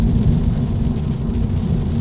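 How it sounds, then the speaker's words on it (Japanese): A torrential cloudburst with thunder beats down on a Subaru BRZ STI Sport, heard from inside the car as a loud, dense roar of heavy rain with deep rumbling underneath, steady throughout. "かなりすごいゲリラ豪雨でございます"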